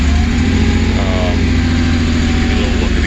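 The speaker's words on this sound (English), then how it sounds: "And while it's idling, we'll go out here and go look at the motor." A Porsche 911 engine idling steadily after a cold start, with a dense, loud low rumble that stays even throughout, heard close with no speech.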